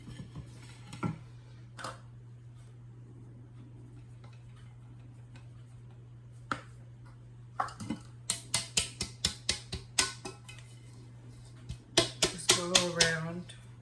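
A cake pan being tapped to spread a dusting of flour for a Kentucky butter cream cake gives a run of quick, close, sharp knocks, with a few scattered taps earlier over a steady low hum.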